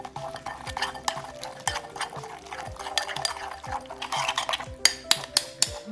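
A spoon stirs an egg and natural yogurt marinade in a bowl, steady scraping strokes with sharp clinks against the sides, ending in a few distinct taps near the close.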